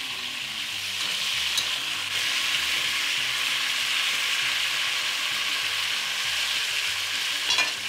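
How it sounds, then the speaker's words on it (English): Beef chuck sears in hot vegetable oil for a pot roast, a steady close sizzle with crackling spits running throughout and a few sharper pops near the end, no voices. "vegetable oil and start searing the beef"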